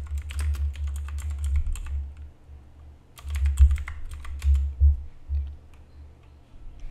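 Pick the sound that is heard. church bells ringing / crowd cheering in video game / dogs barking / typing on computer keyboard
typing on computer keyboard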